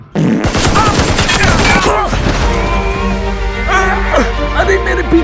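Several guns fired together in a sudden loud volley, followed by shouting and excited voices talking over ringing echoes.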